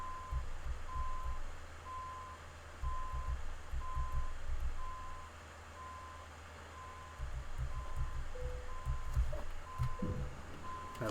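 A truck in Euro Truck Simulator 2 sounds its reversing alarm: a steady series of evenly spaced beeps over the low rumble of the engine, which swells and fades as the truck backs up.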